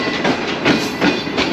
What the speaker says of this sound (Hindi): ट्रेन इस वक्त धीरे धीरे नवाबशाह रेलवे स्टेशन की तरफ बढ़ रही है